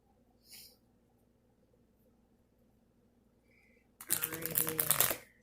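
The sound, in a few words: shuffling cards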